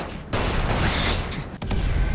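Gunfire in the video game Magicka, a loud dense burst of shots running almost continuously with one short break.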